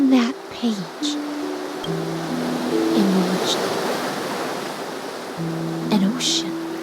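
Ocean waves in the video game Honkai Star Rail, a steady broad wash of surf running throughout beneath a person speaking.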